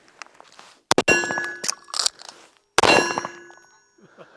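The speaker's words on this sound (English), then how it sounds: "you can see those rounds just blowing up on that steel" Pistol rounds from a 9mm gun strike a steel target outdoors, giving several sharp ringing clangs in a short burst, each followed by a metallic ring that fades, with quiet gaps between the hits.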